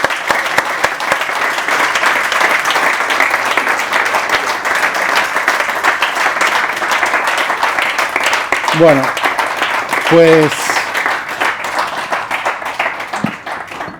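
Sustained applause from a conference audience fills the room for most of the stretch, steady and dense, with a voice briefly speaking over it near the end.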